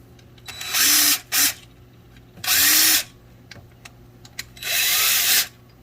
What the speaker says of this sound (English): we're going to bust these, got all these bolts here. See, I got a flex drive on my gun.